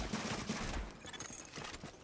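Rapid bursts of automatic gunfire rattle in The Division multiplayer shooter, quick repeated cracks at moderate distance in a busy firefight, without any voices.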